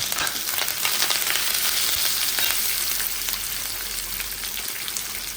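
Mustard seeds, dal and curry leaves fry in hot oil for a kachil (yam) erissery, a steady close sizzle with scattered sharp crackles and pops throughout.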